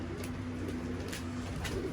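Young pigeons cooing in a loft, soft low throaty coos rising and falling close by over a constant hum of background noise.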